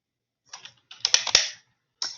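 Keys tapped on a computer keyboard while entering a quiz question, in short bursts of quick clicks with pauses between, fairly close and alone with no talking.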